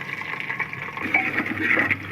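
Chickpea cooking water poured into a pot of bottle gourd, a steady liquid pouring and splashing sound that swells toward the end, close by with no talk.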